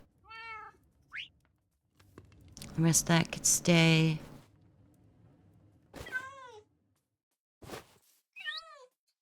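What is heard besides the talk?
cats meowing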